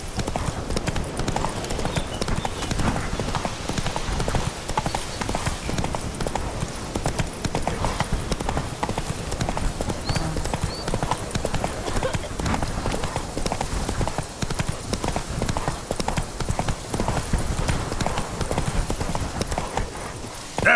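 Roach, the horse in The Witcher 3: Blood and Wine, gallops in a fast, steady stream of hoofbeats that runs throughout, with occasional character voices over it.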